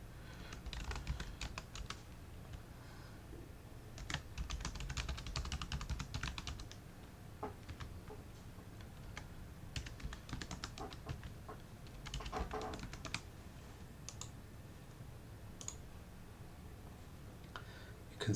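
Someone types an email address and password on a computer keyboard, a faint, irregular patter of key clicks running continuously with scattered louder taps and a low background hum.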